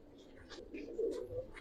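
Giribaz pigeons coo softly in a steady low murmur at a pigeon seller's loft, a continuous close cooing with slight swells over its short length.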